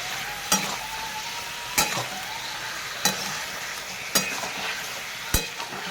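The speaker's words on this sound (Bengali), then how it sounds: "এভাবে নেড়ে নেবো নেড়ে চেড়ে নেবো" Goat meat with spices stirred in a frying pan under a steady sizzle, with five evenly spaced scraping knocks of the utensil against the pan, close and clear.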